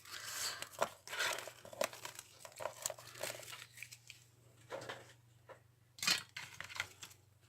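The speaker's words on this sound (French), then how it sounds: "Maintenant, celle-ci, je vais venir la distresser avec mes petits ciseaux" Small scissors scrape and rasp along the edge of a vintage paper card to distress it, giving a run of short, close crinkly scratching strokes with brief pauses between them.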